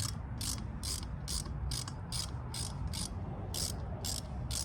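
Ratchet wrench with a socket on an extension bar, used while pulling a 1959 Chrysler Golden Lion 383 RB engine; a steady run of short, evenly spaced clicking bursts, close and moderately quiet, with no talking.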